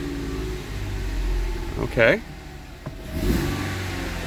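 A cold Ford car engine with a throttle position fault runs steadily, then gets a brief rev around the middle that rises and falls, with a person talking over it.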